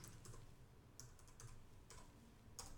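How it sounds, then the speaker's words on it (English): Typing on a computer keyboard, faint close clicks of keys in short irregular bursts over a low room hum, with no one talking. "I'll just type it here."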